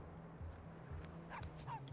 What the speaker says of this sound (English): Yeah, let's pet the dog and leave it at that.